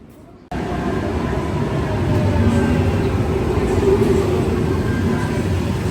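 A train rides toward Brussels, its steady interior rumble starting abruptly after a brief quiet moment and holding evenly throughout without speech.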